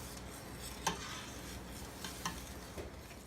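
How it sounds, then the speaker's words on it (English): A spoon stirring boiling blackberry jelly in a pot, with a soft bubbling simmer throughout and a few sharp clicks and scrapes against the pot, close and alone without talk. "when you're making jelly, you need to continuously stir it"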